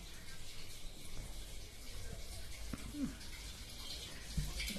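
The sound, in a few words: water filling from tap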